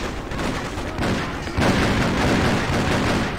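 Sniper gunfire in a video game, a dense rumbling of shots and booms that jumps louder partway through, continuous battle noise without talk.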